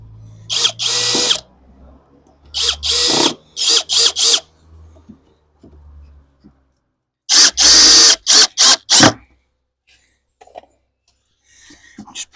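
A Dong Cheng 20V brushless heavy-duty impact drill bores a hole in short, loud bursts, about four to six quick runs with silent gaps between them. A faint clatter follows late, and no one talks.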